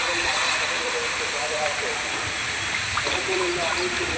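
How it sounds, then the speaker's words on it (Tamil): Banana leaf juice is poured into a hot, dry pan while making banana leaf halwa, producing a loud, steady steaming hiss and sizzle that fills the whole stretch, with a voice speaking faintly underneath. "இப்போ வந்து நம்ம வந்து வாழையில சாரை ஊற்றிக்கலாம்."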